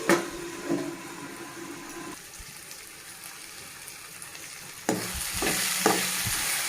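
Atukula poha (flattened rice) cooks in a pan while being stirred, giving a steady close sizzle with scraping stir strokes that grow busier and louder toward the end.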